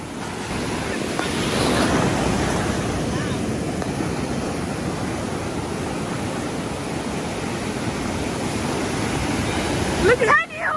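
Ocean surf at Cocoa Beach, Florida rolls in with a loud, continuous roar of breaking waves, buffeted by wind noise on the microphone, and a brief voice cuts in at the end.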